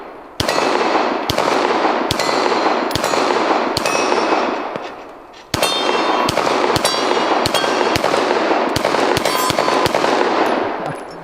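Rapid gunfire rings out against swinging steel plate targets in two long, fast strings of sharp cracks with metallic clangs, loud and close, split by a brief pause.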